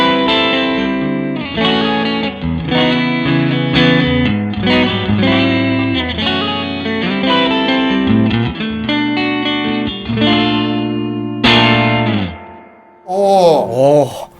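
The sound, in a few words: electric guitar through hand-wired distortion pedal with reverb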